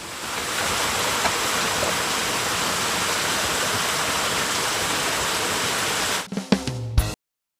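Continuous rushing stream water flowing steadily near a riverside spot in a forest, a loud, even broadband wash that cuts off abruptly near the end with a few brief knocks.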